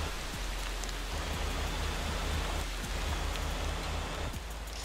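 Steady, dense rain hisses down in the Motor Town driving game, a continuous broadband wash with scattered droplet ticks and no voices over it.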